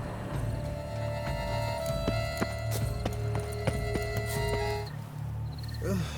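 Horse hooves clip-clopping in The Witcher 3 video game, a steady trot of moderate, close hoofbeats over a droning ambient background that fades near the end.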